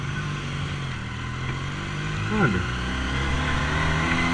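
A 400 motorcycle engine with a Japanese carburetor idles and revs, a steady close engine drone with one brief rising rev swell in the middle, with a single short spoken word near the start.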